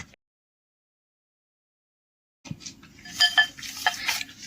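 After a stretch of silence, close rubbing and clinking sounds start as raw potato snack ingredients, cornflour and garam masala are mixed by hand in a bowl, soft and irregular.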